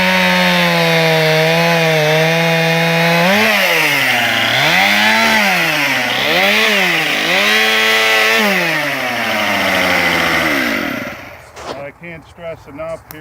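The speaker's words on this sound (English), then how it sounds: "keep cutting more limbs off so that I'm not tripping and falling with the saw" A chainsaw cuts limbs off a tree. Its engine drones steadily with rises and falls in revs, someone talks over it throughout, and it ends in rough crackling cutting and debris sounds.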